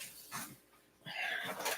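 A dog pants and whimpers close by in a home, giving short breathy bursts with brief pauses and a louder stretch of rapid panting near the end.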